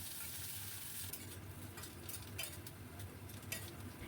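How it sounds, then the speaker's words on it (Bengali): Cubed chandramukhi potatoes frying in hot mustard oil with a pinch of black cumin, a steady soft sizzle with faint stirring scrapes throughout, quiet and continuous with no voices. "তেল গরম করে ফোড়নে দিলাম হাফ চামচেরও কম কালো জিরে, দিয়ে দিলাম কেটে রাখা আলু"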